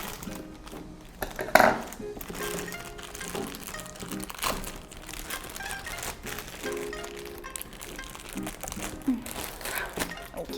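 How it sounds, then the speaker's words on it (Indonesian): Plastic packaging around Fantech gaming headsets being crinkled and cut with scissors, close-up rustling and crunching with a few sharper snips and handling thumps over about ten seconds. "Ini juga kita gunting."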